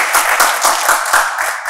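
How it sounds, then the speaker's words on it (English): An audience claps together in a room, a dense burst of applause that stays loud for a couple of seconds and starts fading at the end. "Clap for her as well."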